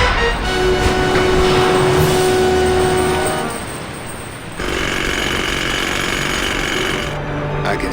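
Chisel hammering in the Grim Fandango video game: loud, rapid jackhammer-like pounding that runs for about three seconds, drops briefly, then resumes at a similar level.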